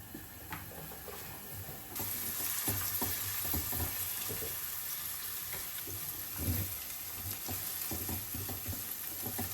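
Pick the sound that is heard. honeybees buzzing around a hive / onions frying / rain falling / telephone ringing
onions frying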